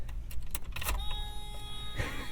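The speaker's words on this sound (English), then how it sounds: "The door chime." A steady electronic door chime sounds inside a Mazda Miata while a door clicks and keys rattle briefly nearby.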